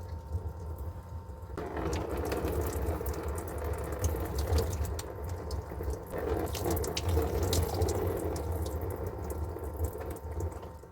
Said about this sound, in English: Just wanted to rinse some of this stuff out my hair.